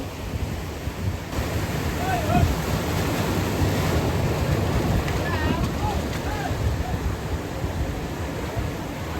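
Sea waves washing onto Mandarmani beach at high tide, a steady close surf wash mixed with gusty wind noise, with faint voices in the background.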